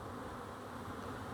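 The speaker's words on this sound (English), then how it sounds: "Busy bees today. I love that sound." A steady, continuous buzzing of many honey bees near their hives, faint and unbroken, with no voices.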